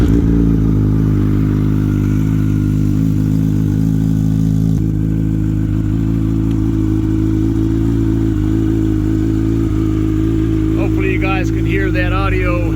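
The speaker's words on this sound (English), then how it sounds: "That audio of the exhaust as it really sounds, because it's a real deep, throaty sound to it." A Yamaha R1 motorcycle engine idles loud and close with a deep, throaty exhaust rumble, steady throughout, with a brief rise in pitch near the end.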